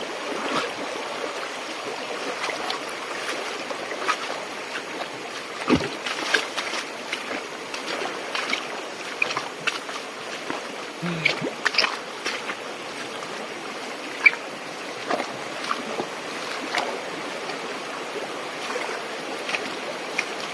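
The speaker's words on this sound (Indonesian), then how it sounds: "Nah, kita ke hilir ikut sungai." A boat travels downstream on the Temula river in Kutai Barat, with continuous rushing and trickling water around the hull, scattered splashes and knocks, and a steady broadband wash throughout, no voices.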